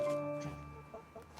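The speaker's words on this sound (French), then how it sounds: "Les poules animent le jardin." Hens in a garden henhouse give a few soft, close clucks and a drawn-out call, fairly quiet against a faint outdoor background.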